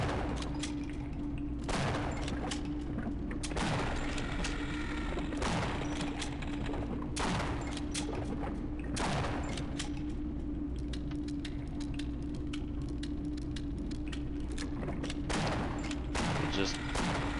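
Rapid gunfire in the video game Half-Life, bursts of repeated shots over several seconds under a constant game drone, with short pauses between volleys.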